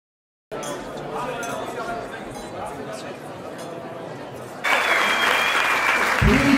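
An audience at an evening event bursts into dense applause after a moment of silence, the clapping steady and close, swelling louder near the end with faint chatter and clinking glasses underneath.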